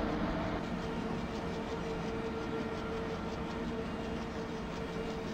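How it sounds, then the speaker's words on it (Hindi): Haridwar Express train passing in the Open Rails train simulator, a steady loud rumble of wheels on track with faint clickety-clack, continuous and close. "जो हरिद्वार एक्सप्रेस है वो हमारे साइड ट्रैक पे आ रही है"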